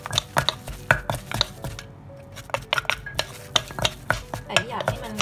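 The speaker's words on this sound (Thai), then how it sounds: "ก็จะโขลกให้มันทั่วถึงนะคะ" Mackerel pounded in a mortar for Thai pon pla with fish sauce, a rhythmic series of close, sharp thuds and knocks with a short pause midway, no voices.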